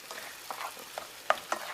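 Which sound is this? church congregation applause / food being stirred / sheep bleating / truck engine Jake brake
food being stirred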